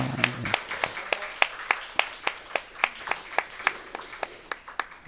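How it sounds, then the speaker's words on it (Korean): A church congregation claps in a slow, even rhythm to bless newly introduced members at a livestreamed worship service, each sharp clap distinct and close, with no talk over it. "우리 박수로 한번 축복하겠습니다"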